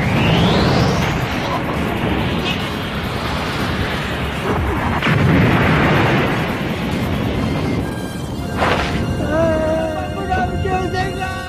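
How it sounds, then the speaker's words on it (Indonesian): A loud, rumbling blast in the Dragon Ball Z anime roars on for several seconds as a broad roar that swells and fades. A few sharper bursts break in, and tonal sounds follow near the end. "tiba-tiba terjadi sebuah ledakan dari kejauhan"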